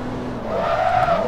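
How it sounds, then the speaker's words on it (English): A race car's wheels lock up under braking in Forza Motorsport 2, producing a loud, sustained tire skid and squeal that rises in pitch over an engine drone, with no talking. "Oh, that was a big lockup."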